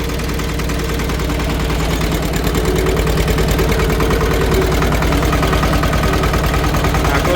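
Mini tractor engine running steadily at a dealer's lot in Bukhara, a close, loud, rough mechanical drone with a fast, even pulsing throb that holds constant throughout, with no voices.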